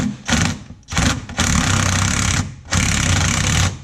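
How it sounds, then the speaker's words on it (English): A loud power drill whirs in several bursts with short pauses between, a harsh buzzing drive running close up with no talking, while fitting a B&M shifter in a Pro-Touring Cutlass. "I'm going to get in here with my trusty old drill"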